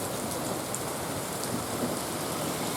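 Rain falls steadily on and around a porch at night, a soft, even hiss of drops with faint occasional patters, fairly quiet and continuous with no voices.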